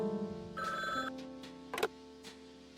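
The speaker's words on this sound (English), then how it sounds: "Oh, my phone's ringing." A phone ringing in the video game Frog Detective 3: Corruption at Cowboy County, a bright electronic ringtone of clear tonal notes with a short clattering burst partway through, close and alone without talking.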